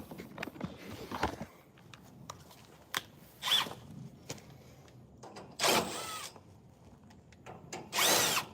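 Power tool on a Ruud 20 SEER outdoor unit, driving out panel screws in short whirring bursts separated by quiet handling noise, close and fairly soft.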